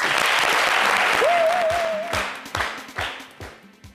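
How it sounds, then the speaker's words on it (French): A crowd gives a thunderous round of applause to welcome General Makosso, dense clapping with a short whistle rising through it, then tapering into scattered claps. "Tonnerre d'applaudissements."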